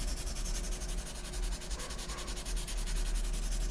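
Sandpaper of 400 grit rubs over a wood-burned pyrography portrait, a steady close scratchy swishing that runs continuously with rhythmic back-and-forth strokes and no talking.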